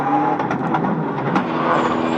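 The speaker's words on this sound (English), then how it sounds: "As you can hear, Panizzi's got gearbox problems and is claiming the car is virtually impossible to drive." A 2003 World Rally Championship car on a Tour de Corse tarmac stage, struggling with gearbox problems, drones with a steady, loud engine note and faint tyre noise throughout.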